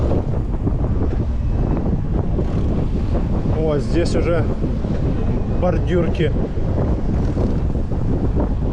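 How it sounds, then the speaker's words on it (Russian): Stormy sea wind and surf along the Sochi coast between Adler and Sirius in December, a constant loud roar of gusting wind across the microphone, with someone speaking briefly over it. "вот так шторм"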